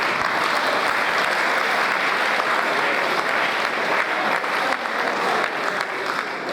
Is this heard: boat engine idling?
no